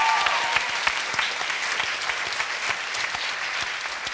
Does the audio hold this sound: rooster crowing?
no